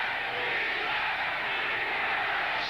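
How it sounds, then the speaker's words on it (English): A stadium crowd at a 1983 Browns at Broncos football game chants for defense, a steady, loud roar of massed voices that holds evenly throughout. "Chant of defense from the crowd."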